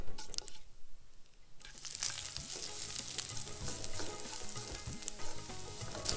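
Grated pumpkin peel roasts in a pan over low flame with hing and sesame seeds. A brief quieter moment gives way to a steady crackling sizzle, close by, with faint scraping and stirring throughout.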